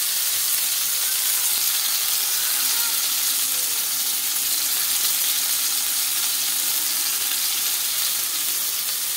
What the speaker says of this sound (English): it's time to flip the patty